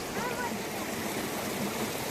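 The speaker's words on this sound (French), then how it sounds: "On va traverser la petite rivière." Small river in the Auvergne flowing steadily, an even rushing wash of water that stays fairly soft and continuous, with a few faint voice-like traces mixed in.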